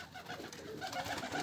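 Domestic pigeons cooing close by, soft low burbling calls rising and falling over a steady background hum, with no talk.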